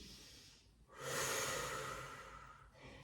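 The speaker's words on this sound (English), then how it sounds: "Breathe in nice and deep." A single deep, slow breath taken during a Pilates mat stretch, close and breathy, swelling up and then easing out softly with no talking.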